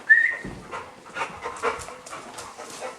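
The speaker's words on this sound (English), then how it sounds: "Here's my attack dog." A dog pants in soft, quick breaths indoors, with a brief high whimper at the start and a low thump, the panting continuing faint and close throughout.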